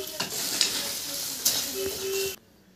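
Garden soil, with small broken brick bits, being mixed together with fertilizer ingredients, giving a steady gritty scraping and rustling with a few sharper knocks, close and moderately loud, stopping abruptly near the end.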